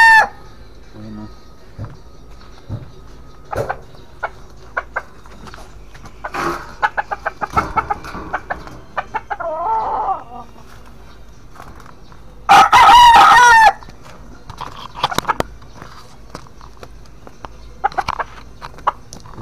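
Texas breed rooster crowing loudly once at close range amid scattered clucks and farmyard bustle, with someone speaking intermittently around the calls.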